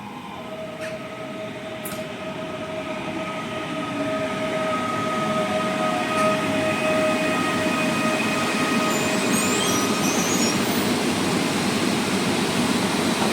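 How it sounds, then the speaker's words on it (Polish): An Elf electric passenger train rolls into a railway station platform with a steady rising rumble, high electric whines and faint wheel squeals, growing louder as it arrives close by. "Na peron drugi wjeżdża Elf z Krakowa Głównego na Katowice"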